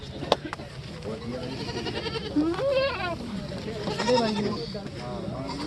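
A goat bleats a couple of times, wavering calls rising over background chatter and outdoor noise.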